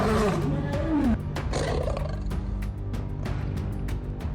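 A lion roars, deep and powerful, opening with a strong call, then trailing into a series of lower grunting pulses, close and clear with no talking over it.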